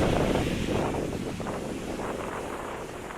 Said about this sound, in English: she's blowing a gale, guys